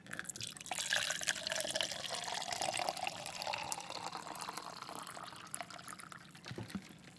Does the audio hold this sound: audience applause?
no